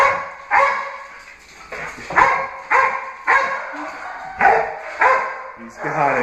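A dog barking during play, about seven loud close barks spaced roughly evenly with short gaps and a faint yip between them.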